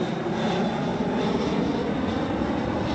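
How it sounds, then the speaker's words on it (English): An airplane flies overhead, its engine drone a steady, broad roar that fills the whole stretch without pause, loud and close. "Fucking plane."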